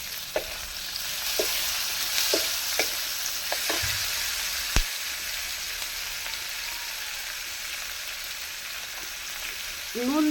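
Chopped beans and carrot frying in a little oil, a steady hissing sizzle with a few faint clicks of a utensil against the pan, mostly without speech.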